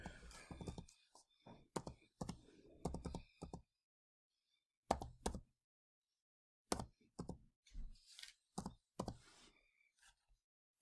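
Someone typing a library card number on a computer keyboard: short, quiet bursts of clicky keystrokes separated by pauses, close and faint.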